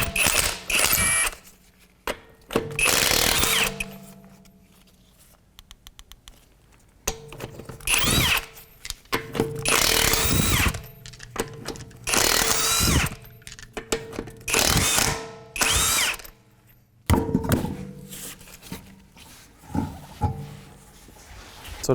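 An impact power tool with a 22mm socket spins off the wheel lug nuts on a 2008 Acura MDX, giving loud rattling bursts of several seconds each, separated by short pauses, one per nut.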